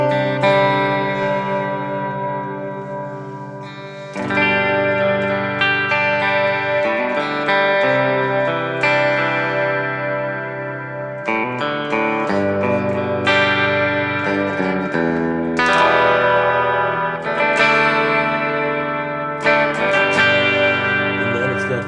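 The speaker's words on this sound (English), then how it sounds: "the Immerse, and this thing is just amazing. It is such a pristine reverb." An electric guitar played through an Immerse reverb pedal set to shimmer rings out in chords and picked phrases, each washing into long, bright, octave-shimmering tails, with no voices.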